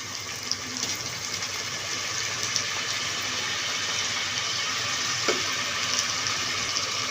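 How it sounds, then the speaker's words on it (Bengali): Ginger and garlic paste frying with softened onions for a prawn malai curry, a loud, steady, close-up sizzle that stays even throughout with only faint stirring ticks. "এই পর্যায়ে আমি আমাদের অ্যাড করে দিব বাটা মশলা আদা বাটা এবং রসুন বাটা"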